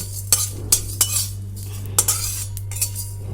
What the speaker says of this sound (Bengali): শুকনো খোলায় আমি পাঁচ ফোড়ন আর একটা শুকনো লঙ্কা ভালো করে ভেজে নেব